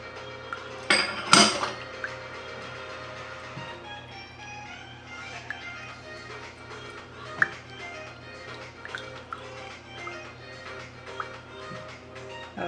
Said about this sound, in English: Just mix it well.